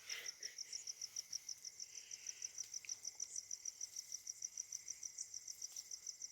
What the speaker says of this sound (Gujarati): કેવા તમરા બોલે જો તમરા અવાજ તમે સાંભળ્યો રાતના